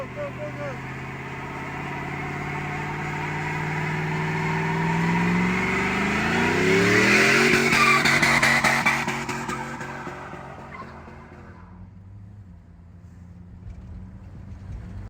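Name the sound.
car engine revving with short tube Gibson headers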